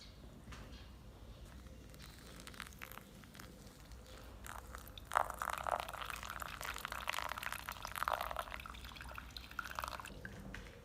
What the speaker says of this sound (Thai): ตอนนี้น้ำร้อนเดือดแล้วนะคะ คราวนี้ก็เริ่มดิฟค่ะ